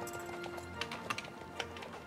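Horse hooves galloping in the video game Unicornis, a few quick clip-clop hits over a steady game backdrop, moderately close and quiet, with no talking.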